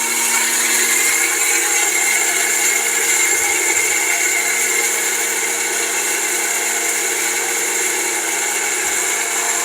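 A Philips blender's motor whirs loudly and steadily at high speed for the whole stretch, a constant buzzing whine with no pauses.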